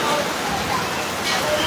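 Heavy rain pours down in a steady, loud hiss, a dense close wash of water with no pauses.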